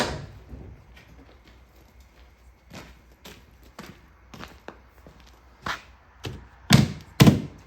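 Irregular wooden knocks and thumps from a hammer on an arcade cabinet, growing louder toward the end, with a few sharp hammer blows standing out among quieter taps.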